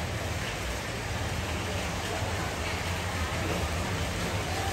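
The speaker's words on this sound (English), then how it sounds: "It's raining heavily the whole morning today." Heavy rain falls steadily through a morning in Pattaya, Thailand, a dense, even hiss that fills the whole stretch without breaks and sounds close and loud.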